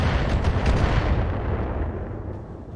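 A Griffin mech in the BattleTech video game empties its guns in a dense, continuous roar of heavy weapon fire and explosions, loud and close, with rapid crackling bursts in the first second that slowly fade.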